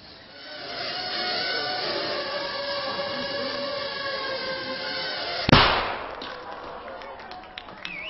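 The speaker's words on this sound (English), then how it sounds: "That little bang is enough to penetrate the skull and destroy the contents." A small shaped explosive charge from a drone weapon detonates in one sharp, loud bang about two-thirds of the way through, cutting across a steady mechanical hum and trailing off afterward.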